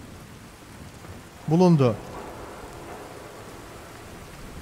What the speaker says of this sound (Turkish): Ve yine yağmur başladı.